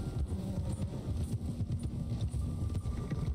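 Horse hooves clop in a quick, steady gallop from the game Red Dead Redemption 2, a rapid rhythmic patter of low thuds running continuously with no talking.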